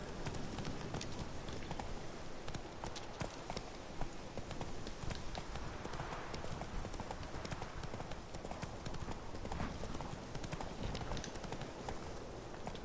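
Hooves of Roach, a horse in a video game, clip-clopping in a fast steady rhythm throughout, close and continuous over a dense game soundscape.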